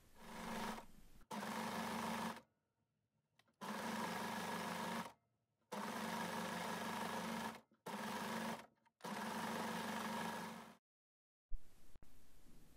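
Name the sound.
overlock sewing machine sewing a long seam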